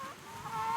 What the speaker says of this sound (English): Chickens, why are you getting out?